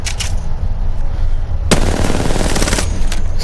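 Rapid repeated gunfire from a weapon in Apex Legends, loud bursts of automatic shots starting near the middle and trailing into a few short follow-up volleys, close and forceful, no voices.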